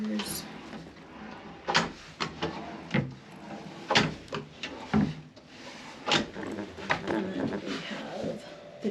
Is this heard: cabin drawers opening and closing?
yes